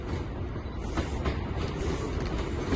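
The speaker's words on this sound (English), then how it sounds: "the next train to come in is going to be a terminating northern service from Barrow-in-Furness." A Northern passenger train, a terminating service from Barrow-in-Furness, rolls into Carlisle station on the West Coast Main Line, worked by a Class 156 unit, with a steady low rumble and faint wheel clatter.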